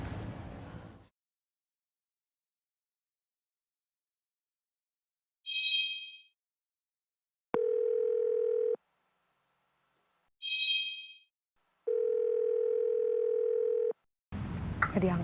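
An unanswered phone call rings back twice, each long steady ring tone preceded by short chirping beeps, with brief talk at the start and end.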